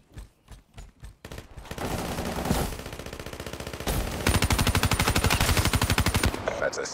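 Gunfire rings out in Call of Duty: Black Ops 3: a few separate shots, then sustained rapid automatic bursts, loud and close, with a voice briefly heard.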